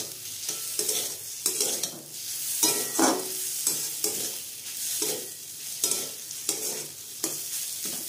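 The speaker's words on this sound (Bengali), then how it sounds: "এগুলোকে ভালো করে ভেজে পুর বানিয়ে নেব।" Shrimp filling for potato pocket chops sizzles in a hot pan while being stirred, with rhythmic scraping strokes over a constant loud frying hiss.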